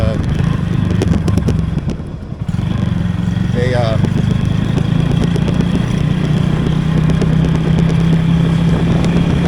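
A rented motorcycle cruises around in Thailand, its engine a steady, close droning hum under constant wind buffeting, with a brief dip in level partway through before the ride noise returns at full strength.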